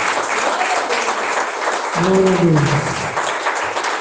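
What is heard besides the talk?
church congregation applauding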